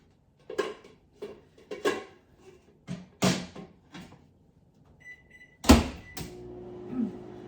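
A stack cooker set back into a microwave oven: a run of plastic and glass knocks and clatters, the door thudding shut, a few beeps, then the oven's low steady hum starting, close by.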